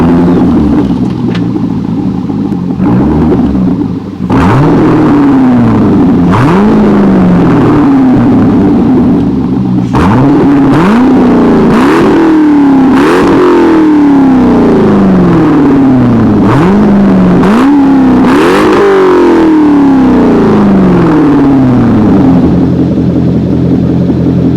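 A loud C6 Corvette with a Billy Boat Bullet axle-back exhaust revving repeatedly, sharp rising blips of engine roar falling back to a deep rumbling idle, close and continuous.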